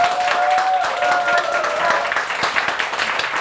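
A studio audience breaks into clapping at a Korean live talk show, a dense burst of applause that fades over a few seconds, with a brief tone and some voices mixed in.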